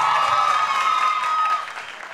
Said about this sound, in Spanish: Que se sienta ese aplauso.